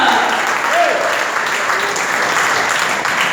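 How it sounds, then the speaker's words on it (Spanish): Church congregation applauding as an offering of praise, a dense sustained clapping that fills the whole stretch, with voices calling out over it. "Regale una ofrenda de palmas al Señor esta hora."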